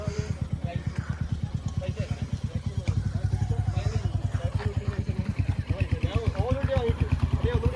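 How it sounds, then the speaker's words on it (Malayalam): Motorbikes and a car on a road near a resort, with a close, steady engine chugging in rapid regular pulses throughout and voices talking over it. "രണ്ട് ബൈക്ക് ഒരു കാറാണ്. ഒരു ബൈക്ക് പോയി."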